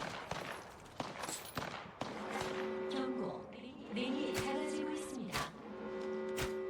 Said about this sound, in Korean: 사격 중이다